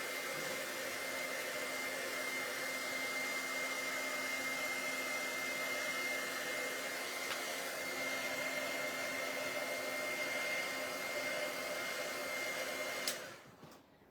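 A hair dryer blows steadily on a handmade Christmas card, a loud continuous whirring hum with a constant tone that runs unbroken for about thirteen seconds before clicking off abruptly.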